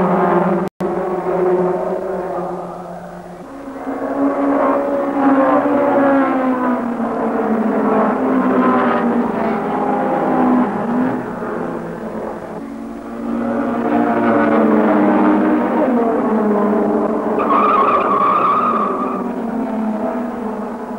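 1964 club race cars scream through Paddock Bend and Druids, their engines whining and rising and falling in pitch as they pass close by in a loud, continuous pack, with no voices heard.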